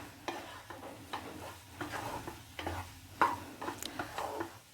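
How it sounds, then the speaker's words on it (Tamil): A spoon stirs a capsicum and onion sauce for chilli egg in a pan, with quiet, irregular scraping strokes over a low sizzle, close by and fairly soft. "சேர்த்துட்டு இது நல்லா மிக்ஸ் பண்ணி விட்டுக்கிறேன்."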